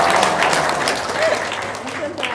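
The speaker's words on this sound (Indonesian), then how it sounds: "Tepuk tangan dong." Audience clapping at a prayer gathering, a continuous wash of applause that gradually thins toward the end, with voices mixed in underneath.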